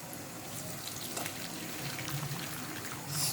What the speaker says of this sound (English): Slowly put the stock in.